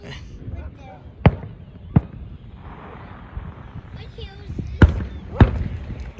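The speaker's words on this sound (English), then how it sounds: "I swear to God, I just heard a firework from behind me." Fireworks set off on the 3rd of July give several sharp bangs, some near and some farther off, spaced out over a low background rumble.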